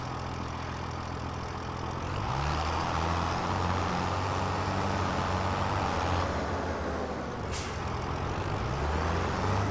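A truck in the video game Farming Simulator 25 reverses and brakes, heard as a steady engine rumble with shifting tones and a short sharp hiss of air brakes near the end.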